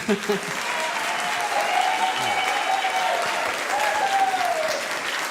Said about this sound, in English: I'll take those as you're clapping for me because I'm on the committee